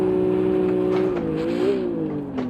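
A 2000 Nissan Skyline GT-R racing at the Nürburgring in Gran Turismo 7, its engine holding a steady high drone that dips and climbs briefly around a gearshift, then keeps pulling, loud and close throughout.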